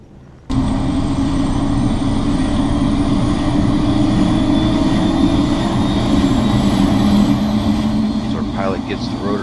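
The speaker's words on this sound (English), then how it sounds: "Pilot gets the rotors up to speed, getting them turning, ready for takeoff." A Grand Canyon tour helicopter's turbine and rotors spin up for takeoff, starting abruptly and then holding a loud, steady whine and roar with a slowly rising tone, close by.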